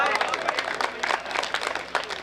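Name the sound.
audience applause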